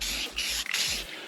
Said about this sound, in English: That 10-inch fan spray.